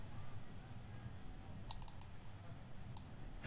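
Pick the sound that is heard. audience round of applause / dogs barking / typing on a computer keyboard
typing on a computer keyboard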